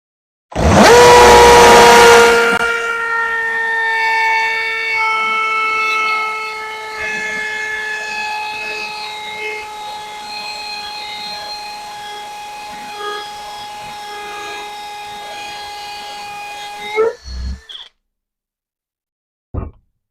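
A Forstner bit drills into wood. A loud burst opens into a sustained, steady tonal whine for about fifteen seconds. It then cuts off with a few clunks and a final knock.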